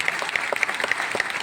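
An audience at an anniversary event claps in a brief, dense burst of applause, close and steady, with no voice heard.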